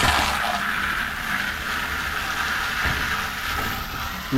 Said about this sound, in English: But I'll put the water in there first.